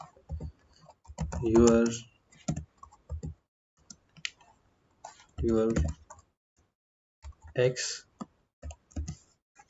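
Python code being typed on a computer keyboard, heard as quick bursts of light clicking keystrokes between stretches of someone talking close by.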